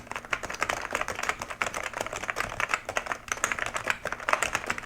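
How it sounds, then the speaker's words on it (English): Close-up typing on a Cougar 450K hybrid mechanical gaming keyboard, bursts of quick, crisp key presses with brief pauses between runs, no voices over it. "So I'm gonna go ahead and do a little typing and so you guys can kind of hear and see what it's all about."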